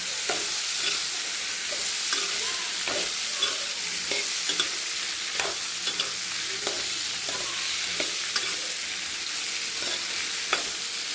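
Okra sautéing in a pan for a tangy curry, a continuous sizzle with frequent light scraping and clicking stirs, close and steady.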